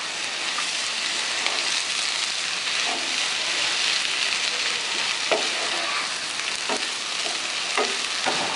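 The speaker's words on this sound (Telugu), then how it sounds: "వేసుకొని బాగా ఫ్రై చేసుకోవాలి" Boiled ponuganti leaves fry in a pan for dal fry, giving a loud, continuous close-up sizzle like heavy rain, broken by a few sharp stirring scrapes toward the end; no voices.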